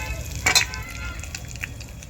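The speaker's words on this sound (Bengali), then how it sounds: "নিয়ে নেবো কিছু গোটা গরম মশলা, লবঙ্গ, এলাচ আর দারচিনি, ফোড়ন দিয়ে দেবো" Whole garam masala of cloves, cardamom and cinnamon crackling in hot oil for tempering, with a brief burst of spitting around the middle over a soft, steady sizzle.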